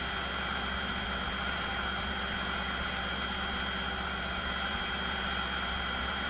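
A stepping motor driven as a generator spins at high speed, giving a steady, loud high-pitched whine and squeal with constant mechanical hum and vibration, no voices.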